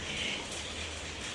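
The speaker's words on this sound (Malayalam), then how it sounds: "പുറത്ത് തോരാ മഴ ഇങ്ങനെ പെയ്തുകൊണ്ടിരിക്കുന്നു" Heavy, steady rain pours down outside during a monsoon downpour, a continuous broadband hiss with dense drops pattering on surfaces, no voices over it.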